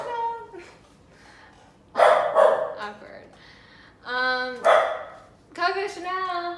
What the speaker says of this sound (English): So that's my dog, Coco Chanel.